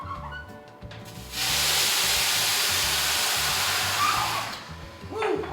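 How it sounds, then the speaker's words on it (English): Boiling hot water poured onto a sheet pan inside a hot oven for baking sourdough bread sends up a loud, sustained hiss of steam lasting about three seconds, then fading away. "Woo, plenty of steam."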